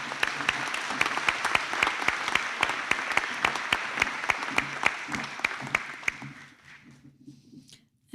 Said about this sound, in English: And I ask you now to give them all a round of applause